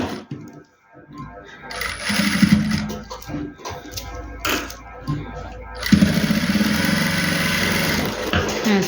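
A sewing machine stitches the collar of a baby boy's dress in loud, close mechanical runs broken by short pauses, with light handling noise between bursts.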